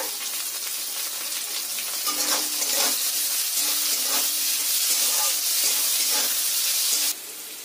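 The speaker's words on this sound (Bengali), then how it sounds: "আলুটা আমার ভাজা ভাজা হয়ে গেছে, এতে দিয়ে দেব কুচিয়ে রাখা পেঁয়াজটা" Diced potatoes and chopped onion frying in a pan for a homemade paneer chow mein, giving a steady loud sizzle with occasional stirring scrapes, close and continuous, then briefly quieter at the end.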